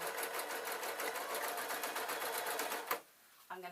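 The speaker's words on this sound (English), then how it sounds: "if the machine's having trouble piercing, like now, it's suggesting that its needle needs replacing" A sewing machine needle punches through trouser fabric in a fast, steady rhythmic clatter, close and fairly quiet, cutting off before a brief voice at the end.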